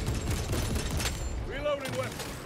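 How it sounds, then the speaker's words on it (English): Grenade launcher fire in Warhammer Space Marine 2, heard as a dense burst of loud gunfire and explosive impacts, with a rising whistling tone midway, all inside constant game combat noise. "See what this grenade launcher can do."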